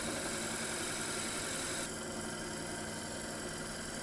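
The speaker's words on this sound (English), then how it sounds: "Finally, I then change to a 44mm auger, which makes light work of the job." Power drill fitted with a 44mm auger bit boring a hole in wood for a pepper grinder, a steady close motor drone with grinding texture that shifts slightly in tone partway through.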